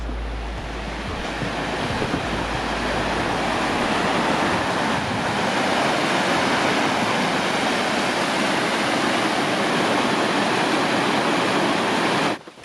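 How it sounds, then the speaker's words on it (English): A forest waterfall near Barry's Bay, Ontario roars as a dense, continuous rush of falling water, loud and close, ending abruptly. "it looks like there's more of a waterfall over here"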